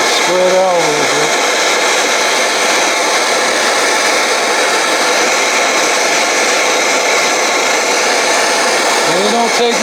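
A Bernzomatic torch roars steadily as it heats an aluminum brazing rod during an Evinrude 55 outboard rebuild, a loud continuous broadband hiss running the whole time, with brief voice-like tones at the start and end.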